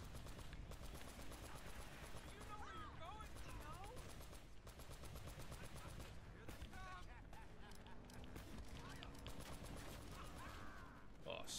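A mounted machine gun in Uncharted: Drake's Fortune fires in a long, unbroken stream of rapid shots that stays faint and steady for the whole stretch, with game noise layered underneath.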